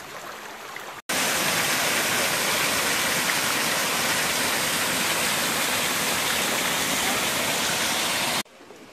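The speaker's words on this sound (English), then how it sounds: "It's just like we're walking up a river now." River water rushes over stones in a Thailand national park, a loud, steady, close roar that holds unbroken for about seven seconds, with a brief quieter stretch before and after.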